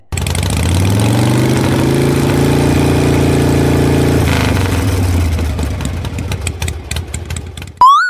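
A motorcycle engine idles loudly and steadily close by, then slows into irregular putters before a sharp rising tone at the very end.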